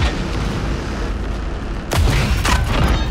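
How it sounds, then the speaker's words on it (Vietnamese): Machine gun fire in the tank battle video game Project CW sounds as a rumbling, rapid volley of booming shots, growing denser and louder partway through, with no talk over it. "mình có súng máy nè."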